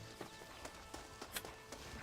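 Horse hooves clip-clop in a steady walking rhythm, a few soft distinct hoof strikes at moderate distance in the Red Dead Redemption video game, set against faint ambient background.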